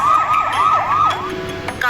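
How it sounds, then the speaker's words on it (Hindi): Police sirens wail loudly along a road as a line of official cars pulls up at a bungalow gate, rising and falling in quick repeated sweeps before fading into steady traffic noise. "पूरे रोड पर पुलिस के सायरन जोर जोर से बजने लगे।"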